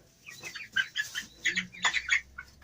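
A small black Orpington chicken clucks and squawks in a series of short, close bursts while being picked up and held on a poultry farm, with some rustling between calls.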